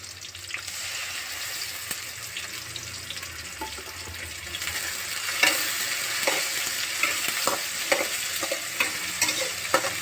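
Ginger garlic paste is fried and stirred in a pan for gongura chicken, giving a steady close sizzle with occasional scraping stirs throughout.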